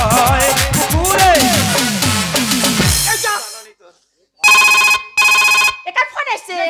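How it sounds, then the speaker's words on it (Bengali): After a stretch of lively voices, a mobile phone rings loudly nearby in two sharp electronic bursts, followed by a short voice. "একার ফোন এসছে।"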